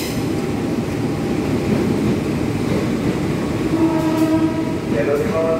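The Singosari passenger train, an old-bodied train, rumbles past nearby on its way into Jakarta, wheels clattering steadily, and its horn blares loudly near the end.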